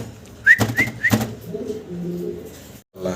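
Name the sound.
pigeons cooing, fancy breed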